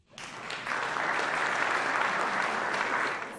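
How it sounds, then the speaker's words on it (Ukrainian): An audience in Washington bursts into applause that interrupts a speech by Ukrainian Prime Minister Arseniy Yatsenyuk. Steady, full clapping rises quickly and holds for about three seconds before tapering off. "Промова глави Арсенія Яценюка кілька разів обривалась оплесками"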